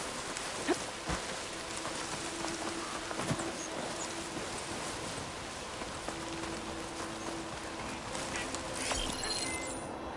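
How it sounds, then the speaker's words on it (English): Steady, dense rainfall in the video game Horizon Forbidden West on PS5 hisses without pause, with scattered heavier drops and faint knocks spotting the constant wash of sound. "Can't hear much over the rain."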